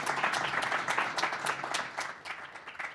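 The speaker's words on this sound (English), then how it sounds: "Let's give them a round of applause." An audience claps for a panel at the National Press Club, a dense, steady patter of many hands filling the room, with no voices over it.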